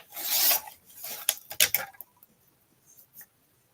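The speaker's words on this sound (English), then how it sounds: "So let me just trim because I didn't get it on totally straight." A paper trimmer cuts cardstock for a birthday card, making several close, dry rasping and scraping strokes that stop abruptly, leaving near silence with a few faint soft taps.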